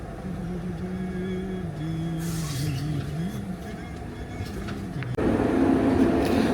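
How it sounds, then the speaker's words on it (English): Inside a Le Shuttle train carriage, a low steady rumble with a droning hum runs throughout, louder toward the end, with faint voices now and then. "And this is the train."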